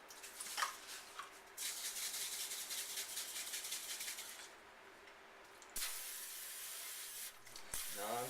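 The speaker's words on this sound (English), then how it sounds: "to spray that down, we need our Pam" Pam non-stick cooking spray sprayed onto a baking pan for brownies, close, hissing in long bursts with brief pauses between them and a short final spritz.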